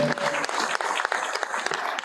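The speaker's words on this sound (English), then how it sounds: "So give a round of applause for her" Brief burst of audience applause at a school board meeting, close and fairly loud clapping from a seated room with no talk over it.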